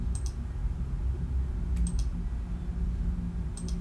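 A computer mouse clicks in a few sharp, faint pairs spaced about two seconds apart over a steady low hum, with no talking.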